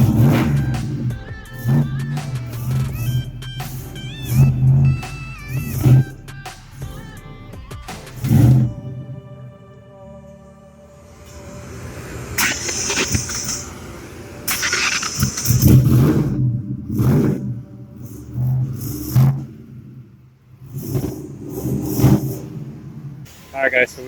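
A turbocharged Ford Mustang engine revs repeatedly on a dyno in loud bursts, rising and falling, with people talking over it between pulls.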